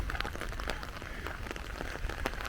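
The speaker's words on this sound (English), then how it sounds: "You can hear the rain clicking on the top of my little pretty umbrella." Steady rain clicks and patters on top of a small umbrella in the gardens of Schönbrunn Palace in Vienna. The taps are dense and quiet, close overhead, with no talking.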